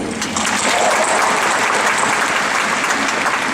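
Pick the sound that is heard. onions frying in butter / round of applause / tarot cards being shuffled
round of applause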